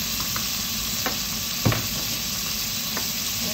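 Garlic and tomato frying in a pan, a constant close hiss of sizzling with a few soft stirring knocks, one slightly louder clack midway, no speech.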